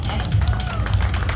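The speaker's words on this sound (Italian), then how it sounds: "Bene, voglio un applauso." Outdoor crowd at Italian Bike Week in Lignano clapping and cheering together, a dense continuous wash of applause with loud low rumble and crowd hubbub throughout.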